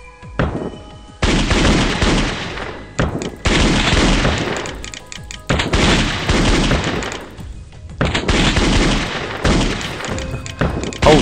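Turrets in the flash game Balloon in a Wasteland fire loud, rapid bursts of gunfire with booming impacts, coming in several long sustained volleys separated by brief gaps.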